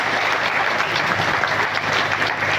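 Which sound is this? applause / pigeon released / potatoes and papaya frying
applause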